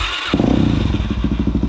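After a brief lull, a Suzuki DR-Z400 dirt bike engine bursts to life close by and revs in a rapid, throaty, pulsing rhythm.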